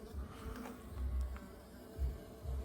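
Stingless bees, jataí and mandaçaia, buzz steadily around their hives at an outdoor meliponary, with a continuous hum that swells and dips with passing low thumps and faint background rustle.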